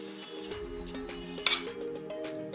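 Pieces of boiled banana flower tipped into a blender jar, giving a few light clinks and knocks of vegetable against the jar over a steady low background hum.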